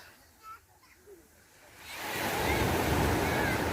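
Sea surf at the seaside builds after a quiet start into a steady, loud rushing wash of breaking waves with wind across the microphone, close and continuous.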